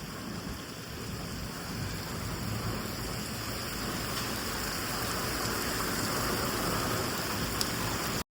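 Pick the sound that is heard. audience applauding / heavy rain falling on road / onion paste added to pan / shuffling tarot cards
heavy rain falling on road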